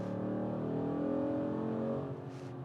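A 2009 Dodge Challenger SRT accelerating hard, its engine droning loudly with a rising harmonic tone that holds for about two seconds before easing off.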